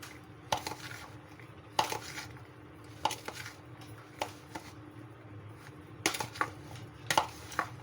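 Spices and chickpeas for chana chaat are mixed in a bowl, with a spoon knocking and scraping against the dish in irregular, fairly quiet clinks.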